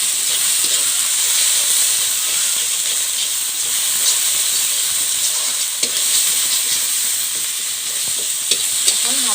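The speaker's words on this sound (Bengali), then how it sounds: "এখন ভালোভাবে মশলাগুলো ভেজে নেব।" Garlic and ginger paste with spices frying in a pan for a small fish curry, a steady loud sizzle and hiss throughout with occasional faint stirring scrapes and no talk.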